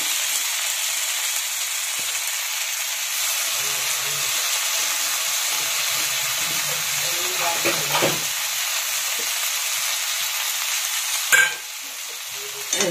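Capsicum and potato curry sizzles steadily in a pan, with soft scraping and stirring noises running through the frying hiss and a sharper clatter near the end.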